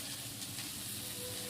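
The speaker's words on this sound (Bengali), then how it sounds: "এখানে আমি লাল শাক ভাজা বসিয়ে দিয়েছি।" Red amaranth greens frying in a new wok (kadai), a continuous hissing sizzle that stays even and close throughout the short stretch, with no voices.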